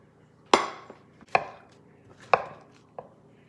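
A knife chops a banana on a cutting board in four sharp, evenly spaced knocks, close and distinct against a quiet kitchen background.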